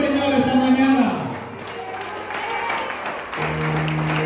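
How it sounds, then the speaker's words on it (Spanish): Church congregation clapping and cheering in praise, a burst of applause with voices over it that fades and then swells again. "Un aplauso al Señor esta mañana."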